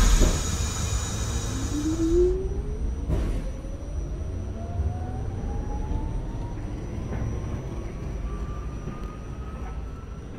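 An R46 subway train on a Q express run in a video game rumbles steadily along with a rising electric motor whine, close and continuous, after a brief high-pitched tone fades at the start.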